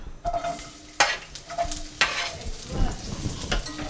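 Onion dropped into hot oil in a pan, a crackling sizzle with scattered stirring knocks and scrapes, close and moderately loud.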